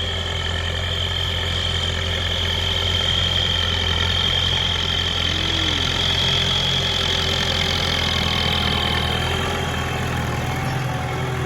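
A New Holland 6640 tractor's four-cylinder engine idles steadily and evenly with a low, smooth rumble and faint knocking texture, unchanging throughout.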